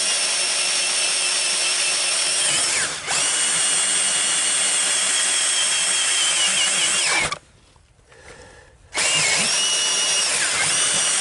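A power drill bores a hole during a pitless well fitting leak repair inside a house: a loud continuous high whine, briefly dipping once, then stopping for a second and starting again.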